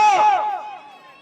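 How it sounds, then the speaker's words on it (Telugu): At a bullock-pair ploughing race in Pottapi village, Kadapa district, spectators let out a loud, piercing shout or whistle that bends and fades over about a second, with crowd noise behind it. "కేకలు విజిల్స్"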